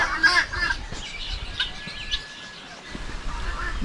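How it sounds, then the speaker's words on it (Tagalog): Several brooding hens in a farm yard cluck and chirp softly in a steady murmur, with scattered calls rising over the background noise. "Marami tayong inahin dito na naglimlim."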